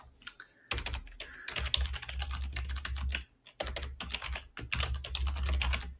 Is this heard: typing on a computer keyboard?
yes